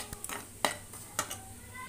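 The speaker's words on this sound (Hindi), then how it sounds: "इसलिए हम बेसन को और सूजी को हम भूनते हैं" Gram flour and semolina roast in a pan, heard as faint, close spatula taps and scrapes against the metal. They come in a loose rhythm over a low background hiss.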